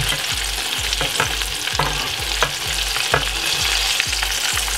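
Shrimp fry in hot oil for French fried shrimp, a loud, close, steady sizzle with regular rhythmic scraping or stirring strokes about every half second.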